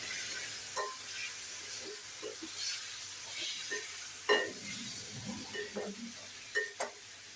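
Eggplant cooks in tamarind water while being stirred, a soft steady sizzle and hiss with scattered light scrapes and knocks of the spoon against the pan.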